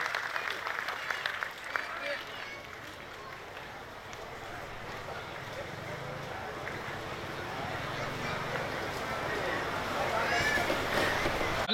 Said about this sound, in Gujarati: મહેન્દ્રગીરી બાપુ ને એક વખત જોરદાર તાળીઓ છે